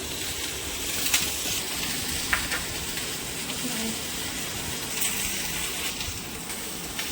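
Oil heating in a kadai for paneer butter masala, giving a steady faint sizzle with light scattered crackles, close by.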